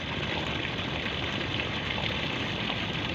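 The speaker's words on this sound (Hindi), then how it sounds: "ये शूज धोए जा रहे हैं" Shoes washed under a strong stream of very cold water, a dense, continuous splashing gush that stays steady and fairly close throughout, with no talking.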